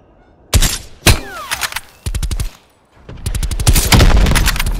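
Gunfire in Call of Duty: Cold War, sharp loud shots and rapid automatic bursts in several separate volleys, with clattering impacts between them and a longer sustained burst at the end.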